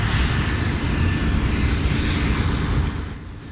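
A WW2 Corsair and a Curtiss P-40E Kittyhawk warbird fly low overhead, their piston engines making a loud, steady propeller roar that holds strong before easing slightly at the end, with no voices.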